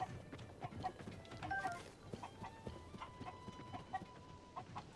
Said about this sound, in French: C'est quoi ces poules?